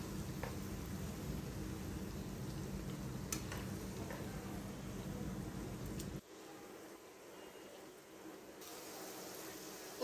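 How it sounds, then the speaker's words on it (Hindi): Stuffed bitter gourds (karela) fry in a pan over medium heat, giving a steady, soft hiss of sizzling oil with faint ticks and pops, dropping briefly to a quieter patch before the sizzle returns. "तो हम इन्हें दरमियानी आंच पे फ्राई करेंगे।"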